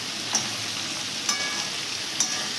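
Chopped carrot, beans and capsicum frying with salt for fried rice, a steady close sizzle broken by three sharp utensil scrapes spaced about a second apart.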